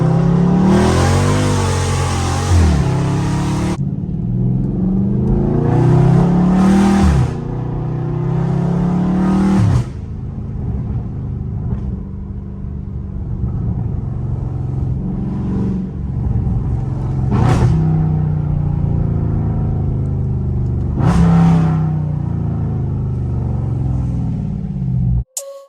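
A Dodge Scat Pack V8 rumbles loud and close while driven through city streets, with repeated rising revs and throttle blips between steadier cruising stretches of engine drone.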